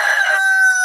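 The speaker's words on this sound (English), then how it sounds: "Who's crowing?" Part of a rooster's crow on a farm, a loud, close, strained call that holds a steady pitch for under a second.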